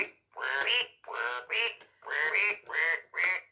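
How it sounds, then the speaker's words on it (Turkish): A Fisher-Price toy piano plays six synthetic duck quacks in a steady rhythm, each stepping to a different pitch like notes on a keyboard. "Burada da yine ördek sesleriyle piyano sesini birleştirmişler."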